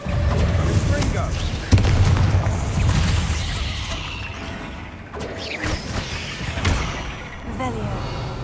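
In Hogwarts Legacy, a Confringo fire spell goes off with a sharp blast and a rumbling burst, followed by further crackling impacts while a woman casts spells aloud over the sound.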